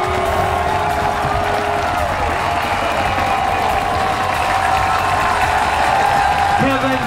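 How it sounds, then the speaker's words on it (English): A home football crowd roars after the first home goal in a Nashville FC match against the Atlanta Silverback Reserves, a dense sustained wash of cheering and clapping that holds steady and swells slightly near the end. "And just listen to this crowd."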